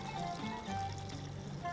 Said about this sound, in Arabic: عندنا حليب سخن بنضيفه فوق